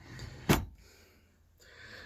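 A cutlery drawer in a budget campervan gives a single sharp close knock at the start, followed by a brief quieter scrape of the drawer, with no talking.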